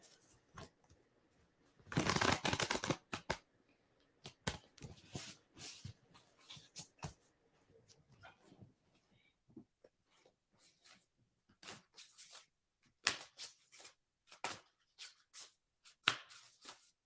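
A deck of playing cards shuffled by hand at close range: a dense riffling burst early on, then scattered soft snaps and clicks of cards being handled, with no talking.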